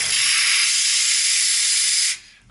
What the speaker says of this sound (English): So to start off with, I'm going to purge the steam wands.